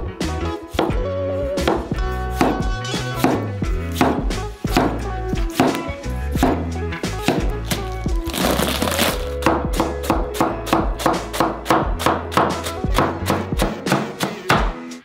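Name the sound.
knife slicing tomatoes on a cutting board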